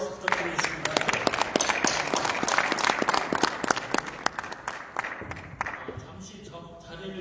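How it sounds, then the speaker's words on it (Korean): An audience at a policy forum applauds after a presentation, many hands clapping in a brisk, dense rhythm that builds and then gradually thins out toward the end, with a voice speaking over it. "다시 한번 뜨거운 박수 부탁드리겠습니다"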